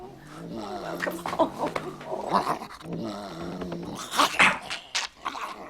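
A dog growls and snarls in uneven bursts, close and moderately loud, with a few sharper yips mixed in.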